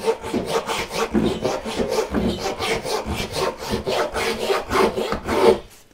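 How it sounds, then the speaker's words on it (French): Steady back-and-forth rasping of a Japanese pull saw cutting through wood, each stroke close and rhythmic, continuing without pause. "la scie japonaise, elle, bah, elle va aller un petit peu plus où elle veut"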